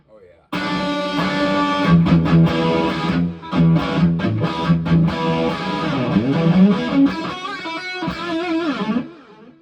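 Electric guitar played through a Marshall amp model with reverb and delay, sustained distorted chords and lines ringing out with echo tails, loud and close for nearly ten seconds before fading.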